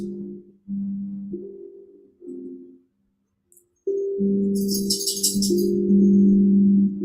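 Sustained meditation tones ring out in a quiet room during an evening meditation, several long steady notes, some fading into silence, then a fuller, louder tone that swells and holds, with a brief shimmering chime above it.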